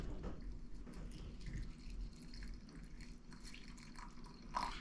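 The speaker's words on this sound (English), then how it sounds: "The water, I am going to fill it up just above the rocks." Water poured into a rock tumbler container over rocks and dirty coins, heard as a soft, steady trickle with light drips, fairly faint and continuous with no voices.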